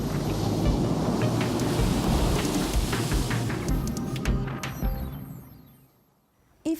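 Ocean surf rolls and washes in a dense, continuous roar mixed with wind, fairly loud and close, then fades away to near silence at the end.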